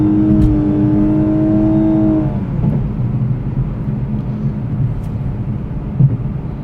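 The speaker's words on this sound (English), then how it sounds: "It is downshifting a little early" A 2019 Lexus LC500h hybrid in sport mode drives on a highway as its engine downshifts: a steady droning engine tone holds for about two seconds, then drops away, leaving continuous road and cabin noise.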